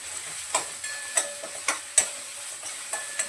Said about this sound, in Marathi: हे दोन चांगलं परतून घेते